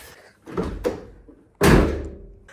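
A car door on a Honda Prelude under rebuild, just fitted with a new handle and latch, thuds shut once, a loud, close slam. Softer handling knocks come before it.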